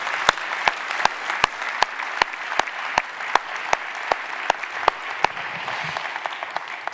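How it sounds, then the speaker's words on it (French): An audience applauds a speaker at a conference, a steady sustained wash of clapping with sharp regular claps standing out near the microphone, continuing without pause. "Puis-je vous demander d'applaudir Madame Bénédicte Durand-Deloche"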